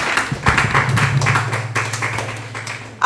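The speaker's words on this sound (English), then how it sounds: "Please clap for her." An audience at a children's school quiz contest applauds a contestant, a sustained patter of many hands clapping, fairly loud and close, with a low hum beneath and brief sharper claps standing out.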